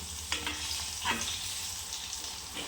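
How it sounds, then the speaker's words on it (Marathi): Potato vadas deep-frying in hot oil, a steady close hiss and crackle of sizzling with a few brief louder bursts, no voices. "असे आपले आता वडे तळू लागले."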